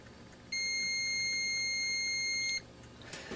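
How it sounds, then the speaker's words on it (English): A GLADTOP digital multimeter's continuity beep holds high and steady for about two seconds, clear and close, then cuts off sharply; a soft click follows. "when I touch them, you can see that it beeps"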